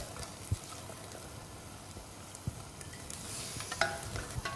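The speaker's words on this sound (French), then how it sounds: "Je vais laisser toujours un bouillon plutôt fort tout en remuant fréquemment." Risotto rice in hot chicken stock, a quiet bubbling simmer with soft intermittent stirring scrapes and a couple of light knocks against the pot.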